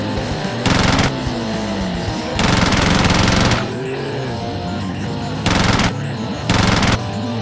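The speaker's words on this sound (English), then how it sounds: "Is that the sweet sound of gunfire?" Machine gun fire in a LEGO zombie movie crackles in four long, dense bursts of rapid shots, loud and close, separated by stretches of lower background noise with voices.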